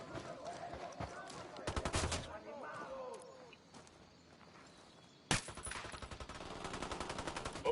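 Gunfire in the video game Ghost Recon Wildlands: a loud, rapid automatic burst around the two-second mark, a sudden sharp shot later, then sustained rattling bursts. Game sound and ambience run underneath throughout.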